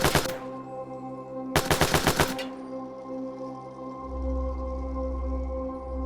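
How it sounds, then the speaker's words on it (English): An AKM assault rifle fires in an action shooter game: a short automatic burst, a pause, then a longer rapid burst, followed by a low droning hum. The shots are loud and close. "The AKM has also been added, bringing a heavier assault rifle profile suited to harder hitting fire"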